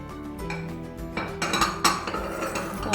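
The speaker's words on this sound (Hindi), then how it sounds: "और इसको पहले मिक्स कर लेते हैं।" Semolina and flour being mixed in a bowl, with close metallic clinks and scraping of a utensil against the bowl, growing busier and louder in the second half.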